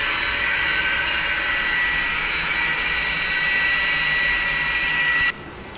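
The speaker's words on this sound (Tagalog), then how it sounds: "itong water pump na to." A small Mitsushi booster water pump runs with a steady, loud motor whir and hum that holds even for about five seconds, then cuts off abruptly near the end.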